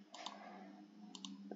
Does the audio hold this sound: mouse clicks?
yes